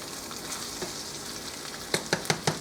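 Potato rellenos fry in a pan with a steady, faint sizzling hiss that runs throughout, broken near the end by a few sharp crackles and pops, and no one speaks.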